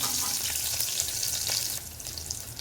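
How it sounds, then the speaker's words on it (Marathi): Crushed garlic sautéing in hot oil for sambar, a soft, continuous sizzle with faint stirring, heard close and alone. "ठेचलेला लसूण घालून घ्यायचा लसूण जरासा परतून घ्यायचा"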